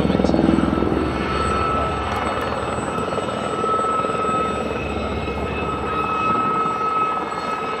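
Gazelle military helicopters fly an assault demonstration at the Le Luc air show, a loud, steady rotor and turbine roar that stays dense throughout, with a faint voice underneath.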